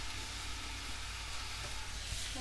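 Chicken frying on a hot iron grill pan with no oil: a steady, even sizzle with a soft continuous hiss and a low background hum, close and fairly quiet, with no talking.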